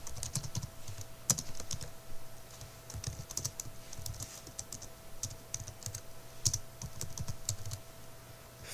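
Rapid, irregular keystrokes on a computer keyboard while JavaScript code is written, with steady clicking taps close by and no talk.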